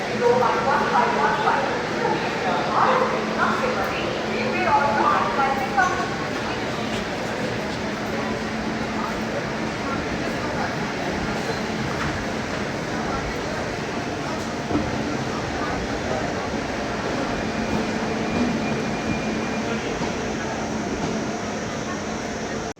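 A train pulling away from Bhaktinagar railway station in Rajkot, a steady broadband rumble of wheels and carriage running throughout, with louder clatter early on and a voice talking over it.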